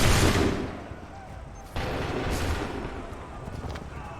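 Musket-style gunfire in the video game Assassin's Creed III: a loud opening volley that fades, then a second sharp burst of shots followed by rumbling battle noise.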